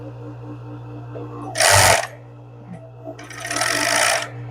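A sewing machine runs in two loud, close bursts stitching skirt fabric, a steady mechanical whir about a second long, then a pause before a longer run, with a low electrical hum underneath.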